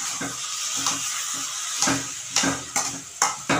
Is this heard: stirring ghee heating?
yes